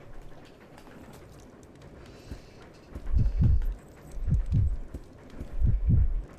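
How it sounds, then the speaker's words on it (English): Heartbeat effect in the video game Resident Evil 0 when switching characters: low, deep thumping double beats repeating steadily in several pairs, loud and close over a quiet background, no talk. "The heartbeat effect when you switch characters."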